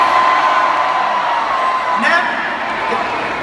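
Concert crowd at a show screaming and whooping in a sustained, loud roar, with shouts rising briefly near the middle.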